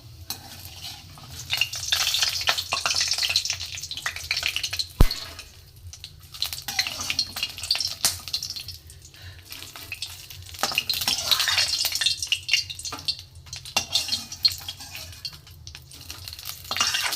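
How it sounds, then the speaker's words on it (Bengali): Papad fries in oil in a home kitchen with a low background sizzle, bursts of crackling and scraping stirring, and a single sharp knock partway through. "পাঁপড়গুলো ভাজা হয়ে গেল, আবার কিছুটা আছে দিয়ে দেবো।"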